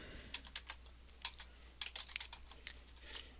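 A computer keyboard being used to type a Linux command, heard as quiet, close, irregular key clicks with a short burst of quick taps near the middle.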